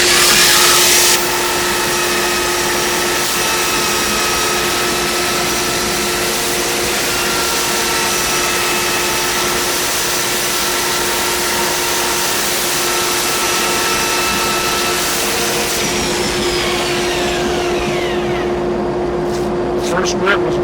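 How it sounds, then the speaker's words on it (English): A rolling pin spins on a wood lathe while a Velcro-backed sanding disc on a magnet-mounted board sands it, giving a loud, steady motor hum with a sustained whine and a rough sanding hiss, under occasional talk. "sanding disc that I'm using in production on a board covered with Velcro and attached with magnets right here to the front of my lathe"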